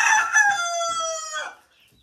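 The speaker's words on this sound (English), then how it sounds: "There's a bunch of chickens already going to bed." A Rhode Island Red rooster crows loud and close at a backyard chicken coop, one long harmonic call lasting about a second and a half, with faint hen clucks underneath as the flock settles for the night.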